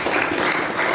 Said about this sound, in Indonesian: Bagi tepukan Majelis.